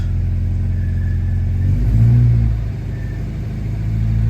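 A 1973 Alfa Romeo GTV idles right after a cold start, its engine rumbling steadily and close, with a brief rise in revs in the middle before it drops back to a low, even idle.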